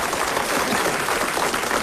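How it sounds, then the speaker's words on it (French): Audience applause in a French radio studio during a comedy panel show, a steady dense clatter of clapping filling the whole short stretch at moderate volume, with no talk over it. "Et vous applaudissez en ce moment Monsieur Sèvres-Gland de Donville-les-Bains."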